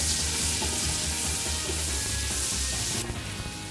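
Onions tipped into a hot pan with browned beef cheeks, giving a loud, dense, continuous sizzle that eases slightly toward the end, with no talking.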